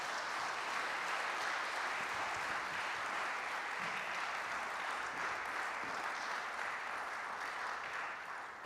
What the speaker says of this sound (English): Could you have a huge round of applause for her, please?